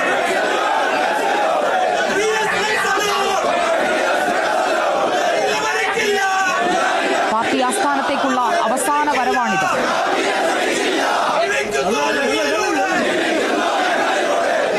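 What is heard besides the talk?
crowd chanting slogans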